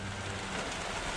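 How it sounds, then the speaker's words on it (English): Heavy rain pours steadily outdoors, a dense, even hiss of drops drumming on surfaces that stays loud and constant throughout, with no voices. "Oh, here comes the big rain."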